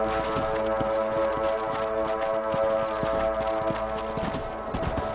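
Horse hooves clip-clop in a rapid, steady galloping rhythm in the Red Dead Redemption video game, close and continuous against a tonal background, slowing slightly near the end.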